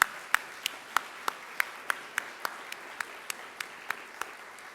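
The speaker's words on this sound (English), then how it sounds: "We can still clap and give them another round of applause." A graduating pharmacy class receives applause at a professional transition ceremony; a sparse, slow pattern of single claps rings out over a soft wash of clapping, fairly distant and evenly spaced.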